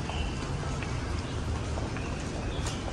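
Steady rain falls all around, a dense hiss with scattered drops pattering on nearby surfaces, continuous and fairly loud throughout.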